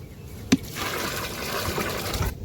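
Water poured from a vessel into a container to soak ingredients for a homemade remedy, a soft, steady trickling splash after a brief knock, close by and fairly quiet.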